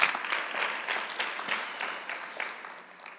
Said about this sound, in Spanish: Dale un fuerte aplauso a nuestro Señor Jesús.